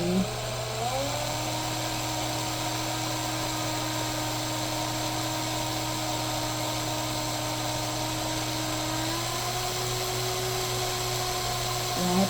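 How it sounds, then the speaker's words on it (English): A drill whines steadily at high pitch throughout while boring a small hole, with a slight rise in tone near the end, close and continuous. "I'm going to put a little drill hole."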